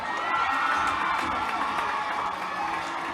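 Crowd at a pageant coronation night cheering and shouting for their town's candidate, a dense, steady wall of voices and whoops sustained throughout.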